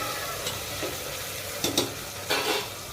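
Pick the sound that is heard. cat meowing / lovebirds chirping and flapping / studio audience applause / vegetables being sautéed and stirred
vegetables being sautéed and stirred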